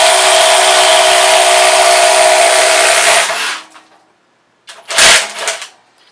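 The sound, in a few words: Kobalt XTR power tool running in a speed test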